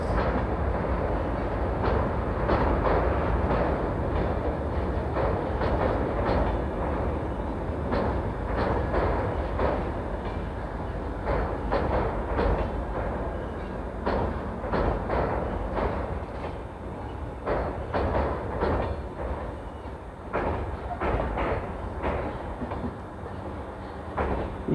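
The late-running 12915 Ashram Express from Ahmedabad to Delhi pulls into Jaipur station, its railcars producing a steady rumble with repeated rhythmic clickety-clack wheel beats over the track for the whole stretch.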